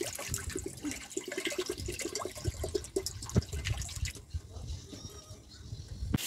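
Water is poured into a pot of rice on a lit stove, giving a faint, steady splashing fill under background voices and household noise.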